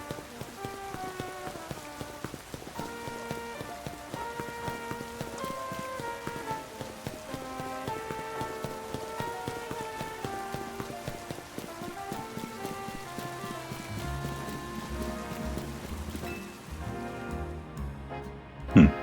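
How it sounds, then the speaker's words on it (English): Steady rain in the video game Pokémon Legends: Z-A pattering on a surface, layered with a melodic music score throughout; the rain swells slightly louder near the end. "Stop raining just for the cutscene then."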